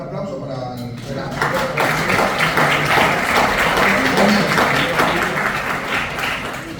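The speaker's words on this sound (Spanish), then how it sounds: "un aplauso para el verano" Applause from a conference audience in a hotel hall, a dense sustained roar of clapping that swells in after a second and carries on steadily to the end, close and loud.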